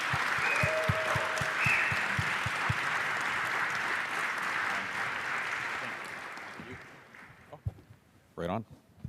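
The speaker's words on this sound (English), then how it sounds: "let's give a massive round of applause to these legends." A crowd applauds to welcome speakers onto the stage at a Bitcoin conference in Vancouver, steady and full for several seconds, then tapering off before a short burst of speech near the end.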